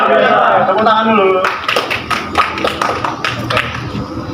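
A class of schoolchildren clapping hands together on a teacher's cue during a morning lesson, a dense burst of claps running for about three seconds after a teacher speaks.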